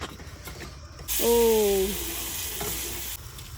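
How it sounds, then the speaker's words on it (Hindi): Halwa is stirred and fried in ghee in a pan with a steady sizzle and the scrape of a spoon. A brief tonal whine cuts in partway through. "और अब हमारा फाइनली हलवा बन के रेडी हो रहा है"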